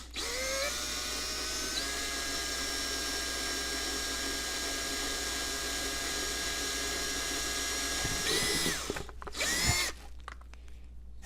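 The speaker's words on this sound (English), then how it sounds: "So you really want to have a variable speed drill here." A variable speed power drill drilling through plexiglass whines steadily at high speed for about eight seconds, then slows and stutters with a few short bursts before stopping.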